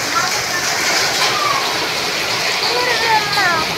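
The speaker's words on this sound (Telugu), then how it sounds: "ఐస్ గడ్డలు రాళ్ళు పడుతున్నాయా? ఇగో చిన్న చిన్నగా పడుతున్నాయి చూడు." Small hailstones falling, a steady pattering hiss like rain on a surface, with someone talking over it throughout.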